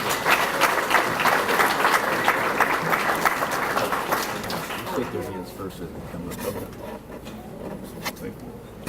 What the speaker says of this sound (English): Give Maya a round of applause, please.